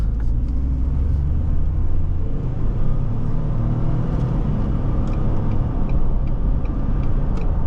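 A 2020 Ford Expedition SSV police SUV accelerating, heard from inside as a loud continuous low engine rumble with road noise and faint rattles, steady throughout and without speech.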